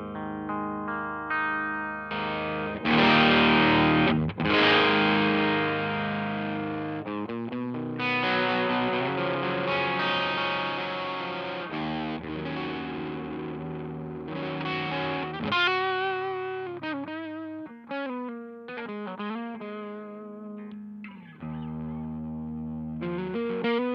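A Fender Jazzmaster with Duncan pickups plays a clean tone through a Mozztronics EX-1 Expandrive pedal. Strummed chords and single-note phrases come loud and close, with no talking.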